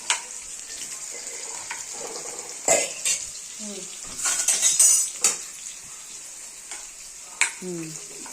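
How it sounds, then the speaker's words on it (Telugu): Onions sauté in hot oil in a pan for a chikudukaya curry, with a steady close sizzle, stirring scrapes and a few utensil clinks, plus brief faint vocal sounds. "ఇప్పుడు మనం ఉల్లిపాయలు ఫ్రై చేసుకుందాం"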